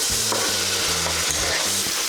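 Ground beef for lasagna cooks in a pan, a soft, continuous sizzle heard up close with a few low scraping stirs and no talking.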